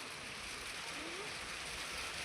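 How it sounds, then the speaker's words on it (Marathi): Steady, even hiss of rain falling, faint and continuous with no pauses. "आता पाऊस पडला"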